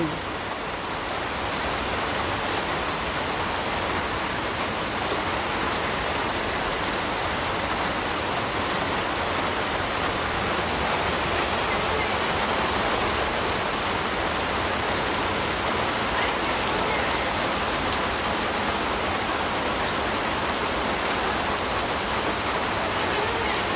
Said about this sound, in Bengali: বৃষ্টি নেমে গেছে ভালোই মোটামুটি বৃষ্টি নামছে